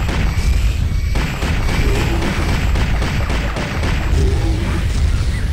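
Grenade launcher explosions in the video game Turok 2 follow one another in a steady, loud barrage of booming blasts over dense rumbling game noise, with no pause throughout.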